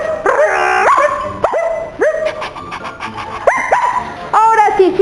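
Human voices imitating a very small dog, giving a series of high, yipping barks and whiny howls in short bursts, loud and close, with several repeated yelps.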